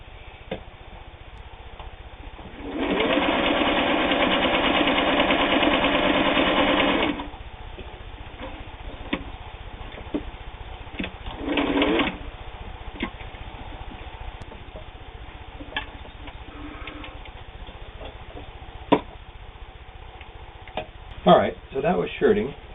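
A Touch & Sew or Singer 401 sewing machine stitching shirting fabric runs in a steady close burst of about four seconds, then a brief second run, with light handling clicks and someone speaking.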